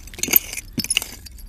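Antique glass bottles from the early 1900s clink and knock together during a dig in North Carolina, a few sharp bright chinks in two short clusters, close and alone.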